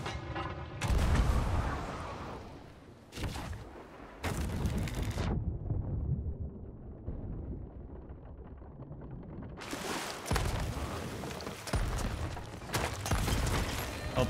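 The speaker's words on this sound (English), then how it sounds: "There's a cannon in there." Cannon fire in a Sea of Thieves ship battle: loud booming blasts crash in repeated bursts, several close together near the start and end, over a continuous rumble of sea and ship noise.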